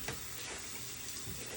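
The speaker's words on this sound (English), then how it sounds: "with greens, you want to rinse them out and get all the dirt out" A kitchen tap runs steadily into a sink while greens are rinsed of dirt, giving an even, fairly soft rush of flowing water.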